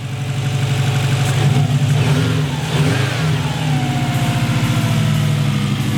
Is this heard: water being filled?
no